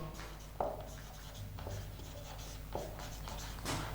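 Chalk or a marker scratches a definition onto a classroom board in short strokes with small taps, heard close over a steady room hum, with no speech.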